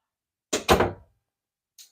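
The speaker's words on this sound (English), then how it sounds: "Oh, Lisa, you had to slam the door like that" A door slams shut with two quick heavy thuds close by, followed by a fainter knock about a second later, with silence around them.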